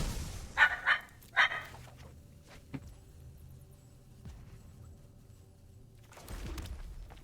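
A dog barks three times in quick succession early on, moderately close, followed by quieter room noise and a later burst of rustling.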